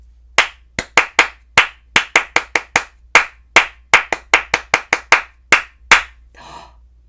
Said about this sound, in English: Pineapple, apple, watermelon, apple. 1, 2, just clap.